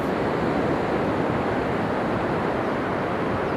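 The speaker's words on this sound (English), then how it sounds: "you can sit by the rolling waves and the moving river" Rolling ocean waves wash in a constant, broad rush of surf that stays loud and even throughout, with no voices over it.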